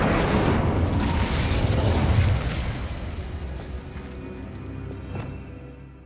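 Incendio fire spell cast in Hogwarts Legacy: a heavy, roaring blast of flame for about two seconds, followed by a rumbling tail that slowly dies away with faint chiming tones.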